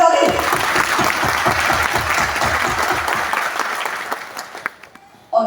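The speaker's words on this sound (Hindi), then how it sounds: "एक बार जोरदार तालियां उनके लिए बजा दें।" A large audience claps loudly and steadily at a motivational mega event, a dense wall of applause that holds for several seconds before thinning out and fading, with a speaking voice briefly at the start and the end.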